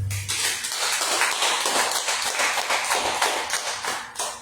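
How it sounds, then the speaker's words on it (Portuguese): A congregation claps hands together during a religious service, a dense, even patter of many hands sustained for a few seconds with no talking over it. "Baruch Hashem, as palmas do Eterno."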